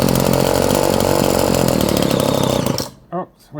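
A whipper snipper engine driving a small motor generator runs loud and steady with a buzzing two-stroke drone for nearly three seconds, then cuts out, leaving brief speech in near silence.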